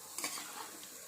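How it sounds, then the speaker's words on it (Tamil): Chicken pieces with salt and turmeric powder being mixed in a pan for chicken roast, a brief soft scrape and shuffle of stirring over a light steady sizzle, fairly quiet and close. "மஞ்சள் தூள் போட்டு நல்லா மிக்ஸ் பண்ணுறோம்."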